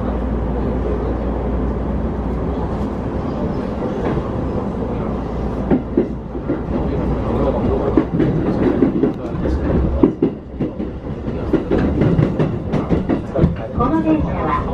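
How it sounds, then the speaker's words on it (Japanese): A Keihin-Tohoku Line commuter train runs between Shinagawa and Tamachi with a steady heavy rumble, and rhythmic clacks and rattles grow busier toward the end. "この電車は京浜東北線各駅停車大宮行きです。"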